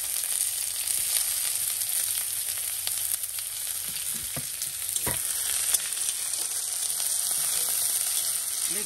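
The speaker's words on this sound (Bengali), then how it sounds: "ওগুলো পুড়িয়ে গেছে, এবার পেঁয়াজ কুচি দিয়ে দিচ্ছি।" Chopped onion fries in hot mustard oil in a kadai with a steady, continuous sizzle and a few soft stirring scrapes, close by and with no voices.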